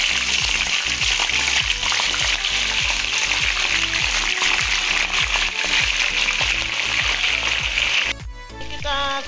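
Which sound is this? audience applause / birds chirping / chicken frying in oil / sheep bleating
chicken frying in oil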